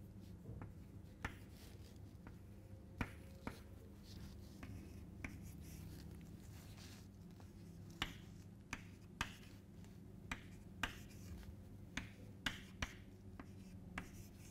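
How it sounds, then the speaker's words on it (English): Faint pen or pencil strokes scratch across paper as numbers are written down by hand, with soft irregular taps and short scribbles in a quiet room. "we'll just write the numbers down."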